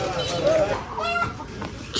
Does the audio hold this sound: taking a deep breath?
no